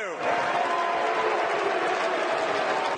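A crowd at the Utah GOP convention boos Mitt Romney, a loud sustained roar of many voices that barely changes.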